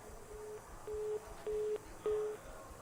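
A phone line sounds a repeated steady tone after a dropped call, four evenly spaced beeps about half a second each, rising slightly in loudness over a faint background hiss.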